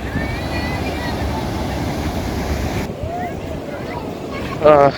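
Sea surf at Patuartek beach in Cox's Bazar, where coral rocks line the shore: a steady broad wash of waves with wind buffeting the microphone, then a brief louder gust near the end.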